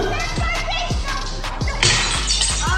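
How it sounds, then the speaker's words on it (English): Rocks, bricks and a glass vase hit a truck in a series of sharp, repeated impacts, with a bright shattering burst partway through and voices audible in the background. "she began to throw rocks, bricks, and even a glass vase at his truck"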